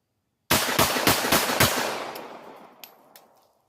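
A compact handgun fires a quick string of about five shots at a steel target 20 yards away, sharp loud cracks in fast rhythm followed by a fading echo and faint metallic pings.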